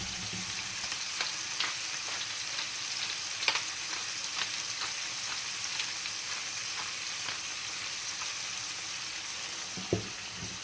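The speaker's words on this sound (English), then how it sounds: "Now let them fry" Red pine mushrooms frying in a pan with salt and pepper, a steady soft sizzle with occasional small pops and a faint clink or two, no voices.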